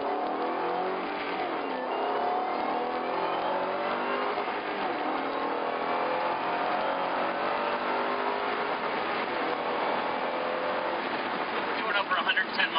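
A 2011 Ford Mustang Cobra accelerating hard on a road, engine droning and climbing steadily in pitch from inside the cabin, loud and continuous, with a voice faintly under the roar.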